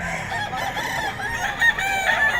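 A Boston White rooster crows loudly and close by in one sustained, strained call that fills the clip. No talk can be heard over it.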